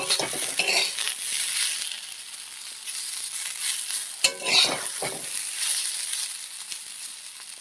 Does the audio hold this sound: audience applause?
no